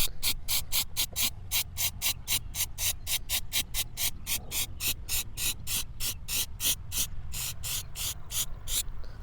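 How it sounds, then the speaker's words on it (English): Rapid, rhythmic bursts of hissing spray from an aerosol can of rubberized undercoating on a car, short pulses repeating steadily close by with no talking. "We're going to spray at a downward angle."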